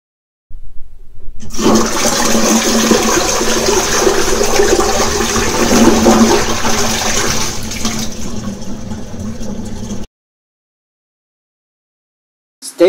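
A Japanese bidet toilet washing and then flushing, a loud, close rush of water lasting about nine seconds before cutting to silence.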